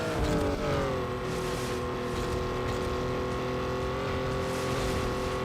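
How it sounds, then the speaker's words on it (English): A deep, steady turbocharged, upgraded V8 car engine drone in Need for Speed Underground Rivals, rich harmonics holding at a constant pitch throughout, loud and close, with a slight rise near the start. "V8 in our hood. That's been thoroughly upgraded. Beautiful V8 sounds."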